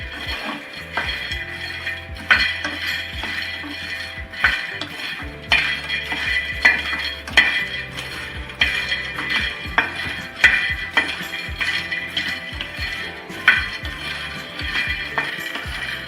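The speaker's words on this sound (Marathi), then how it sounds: "हे मखाने आहेत त्याच्यामध्ये भाजून घ्यायचे आहेत म्हणजे जरा आपल्याला क्रिस्पी करून घ्यायचे आहेत" Makhana (fox nuts) dry-roasted in a pan, the spoon clinking and scraping against the metal in an irregular rhythm as the light puffs are tossed and stirred, close and fairly quiet.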